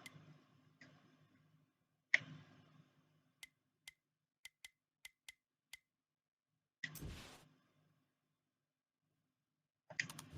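A game controller's square button clicks in a quick run of about seven crisp, faint plastic taps, set among a few other soft knocks and a brief rustle in otherwise quiet surroundings.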